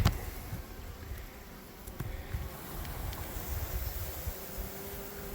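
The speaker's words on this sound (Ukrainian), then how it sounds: "це от карпатська бджола" Steady buzzing of many Carpathian honeybees, a dense continuous hum close by with no voices.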